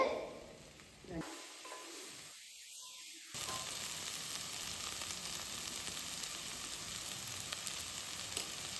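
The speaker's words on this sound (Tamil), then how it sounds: "மிளகாத்தூள் வந்து இந்த பச்சை வாசனை போகிற வரைக்கும் கொஞ்சம் நேரம் வணக்கிக்கோங்க" Sliced plantain and chili powder sauté in a pan for a quick pepper fry, with a steady, close sizzling hiss that stays at an even level after a brief quieter start.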